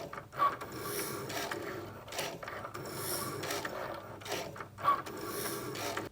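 Cricut machine cutting with its Knife Blade, a quiet mechanical whir and scraping carriage movement with faint ratcheting clicks, running in repeated back-and-forth passes with no talk.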